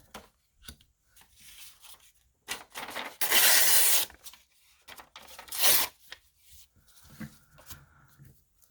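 Sandpaper rubbing across a collage board made from food packaging, bursts of close, harsh rasping scrapes, two long strokes standing out among shorter scratches and pauses.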